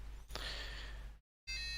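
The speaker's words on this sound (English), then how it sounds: "And you have a slower alarm with a lower sound, at a lower frequency." Low-voltage LiPo alarm on a Turnigy Flysky i6 transmitter, sounding a slower, lower-pitched tonal beep that holds steady, cuts off briefly, then resumes as a clear electronic tone.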